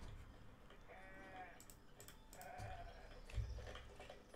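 Sheep bleat in the video game Foundation, a few soft, wavering calls amid faint game ambience and light clicks, fairly quiet and distant.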